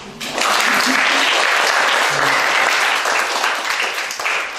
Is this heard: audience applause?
yes